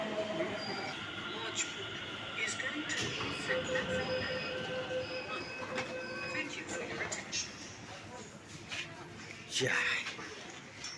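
A Delhi Metro train rumbles along with steady wheel noise and occasional squeals, while people talk nearby inside the carriage.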